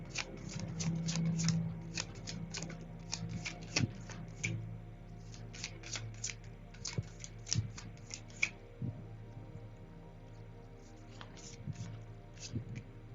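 Tarot cards shuffled by hand in a rapid run of crisp riffling flicks, near and fairly quiet, thinning out toward the end with a few scattered taps and a low background hum.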